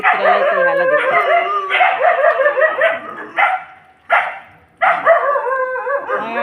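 Dog barks and yips in quick repeated bursts, close and loud, with short gaps of near silence between volleys.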